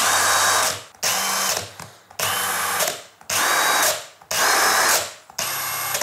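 A cordless impact wrench runs in reverse in a workshop setting. It fires five loud, harsh bursts of about a second each, separated by brief pauses, and it stands alone with no voices.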